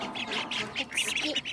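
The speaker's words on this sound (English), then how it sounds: "These are baby call ducks, which they need to get some more water." Baby call ducks, tiny ducklings kept in a small enclosure on a farm, give a rapid run of high, nasal quacks, close and fairly loud, several calls overlapping in quick succession.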